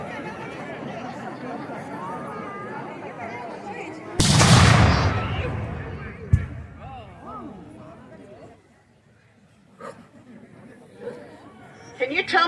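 A War of 1812 field cannon fires at a reenactment, one loud booming blast with a rolling decay, preceded by crowd chatter and followed by voices and scattered distant pops.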